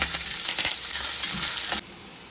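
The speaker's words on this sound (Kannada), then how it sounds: "ನೋಡಿ ಇವಾಗ ಈರುಳ್ಳಿ ಚೆನ್ನಾಗಿ ಫ್ರೈ ಆಗಿದೆ" Onion, green chili and curry leaves fry in hot oil with a steady, close crackling sizzle that cuts off abruptly near the end, leaving a quieter hiss.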